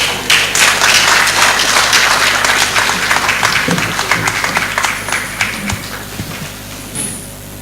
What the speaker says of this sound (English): Ladies and gentlemen, thank you for applauding Reverend Folayan.